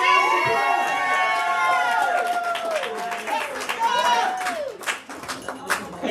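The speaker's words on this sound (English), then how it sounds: "Y'all gotta cheer her on." A cheering crowd at a volunteer award ceremony, with shouts, whoops and scattered clapping that stay loud and steady throughout, and voices calling out over the noise.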